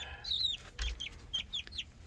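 Chickens cluck close by inside a chicken coop, a run of short, chattering calls at a moderate level.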